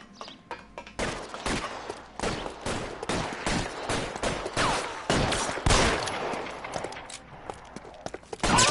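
Rapid gunfire from a suspect during a shootout in the video game L.A. Noire, a dense series of sharp repeated shots over several seconds with little pause between bursts.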